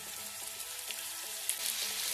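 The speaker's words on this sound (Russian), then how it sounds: "Все, отправляем жариться нашу грудку." Chicken breast fries in sunflower oil in a pan, giving a steady, soft crackling sizzle with occasional louder pops, heard alone without talk.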